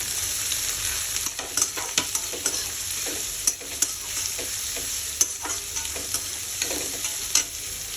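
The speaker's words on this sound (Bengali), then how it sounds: "তো পেঁয়াজটাকে ভালো করে আমি ফ্রাই করে নেব।" Chopped onions fry in a pan for ghugni chaat, a constant close sizzle broken by repeated scraping and clacking as a spatula stirs them, with no talking.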